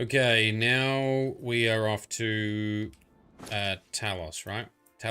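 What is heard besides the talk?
No everyday noises stand out.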